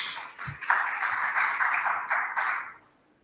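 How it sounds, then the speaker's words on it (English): An audience at a conference claps for two speakers, a moderate burst of applause that swells quickly, holds for about two seconds and then fades out. "So if we could give a very warm round of applause to Gary Gaskell and Dr. David Ross."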